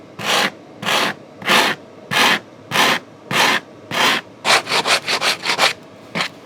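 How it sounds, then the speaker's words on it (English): Coarse sandpaper is rubbed over balsa wood in close, scratchy strokes, first slow and evenly spaced, then quickening into a burst of shorter, faster passes. "I always find it amazing how quickly this coarse sandpaper takes that balsa down."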